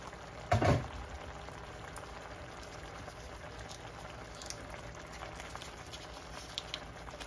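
Coconut milk with squash, string beans and pork simmers in a covered pot, giving a soft, steady bubbling close by, with a brief clatter near the start.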